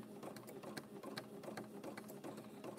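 A sewing machine stitches in the ditch on fabric coasters, its needle running in a steady, fast mechanical rhythm of regular clicks and whirring, close up and continuous with no talking.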